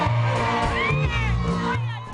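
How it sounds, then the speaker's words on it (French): A large, excited crowd at a Youssou Ndour dance ball cheering and whooping loudly, a dense roar of voices with shouts rising over the din. "Foule en délire"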